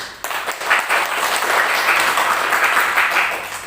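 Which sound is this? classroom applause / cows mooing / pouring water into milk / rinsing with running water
classroom applause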